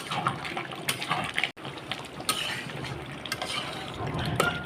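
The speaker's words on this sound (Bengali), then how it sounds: "আমি মাংসটা এখন নাড়া দিয়ে দেবো।" Beef being stirred in a cooking pot for biryani, with scraping and sloshing of wet contents, occasional sharp metallic knocks of the spoon against the pot, close and continuous.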